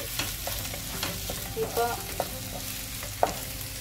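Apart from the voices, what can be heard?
garlic and green chilli frying in a pan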